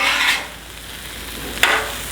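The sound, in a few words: stirring shrimp fried rice in hot pan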